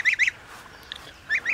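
A goose honks in four short, loud calls, two near the start and two near the end, with quiet between them and no talking.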